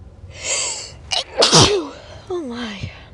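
A person sneezes hard after tickling the nose with a Q-tip, a close, loud burst with a sharp inhale and exhale, followed by breathy vocal sounds.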